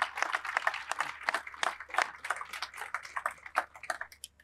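A crowd at a groundbreaking for an affordable housing and veterans center in Burlington applauds to welcome speaker Michelle Caver, giving steady, moderately loud clapping that rises and falls without pause for several seconds.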